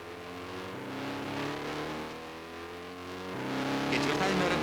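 A race car crosses the start line at the 1961 Kačerginė race, its engine droning steadily and shifting pitch, then swelling louder near the end, under a commentator's continuous narration.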